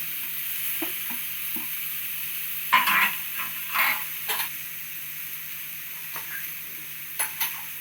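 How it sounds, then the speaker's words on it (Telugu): Mint leaves fry in hot oil for a Telangana-style chicken curry, giving a steady hiss and sizzle with scattered clinks and scrapes of stirring, a few louder bursts midway. "పుదీనా ఆకు వేద్దాం."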